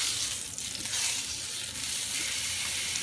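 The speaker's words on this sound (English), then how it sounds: "That's the sound you want to hear when you put your steak on for searing." Steak sears in a smoking-hot oiled pan, giving a steady, close, hissing sizzle that crackles continuously for a few seconds with no voices.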